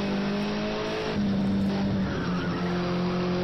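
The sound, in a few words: race car skidding on grass in racing video game at Brno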